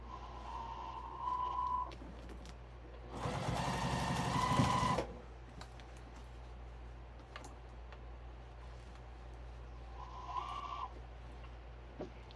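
A sewing machine stitches a flat felled seam on jeans in a couple of short bursts, with one loud, steady run of stitching in the middle against a quiet room.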